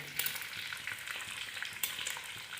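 Egg sizzling in hot oil in a wok while chow mein is made, a steady close crackling fry with small stirring scrapes throughout.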